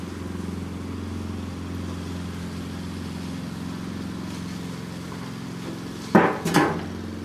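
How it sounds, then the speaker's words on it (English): A neighbor's lawn mower drones steadily in the background, even and unbroken, until a couple of sharp clanks near the end. "One of my neighbors is mowing his lawn."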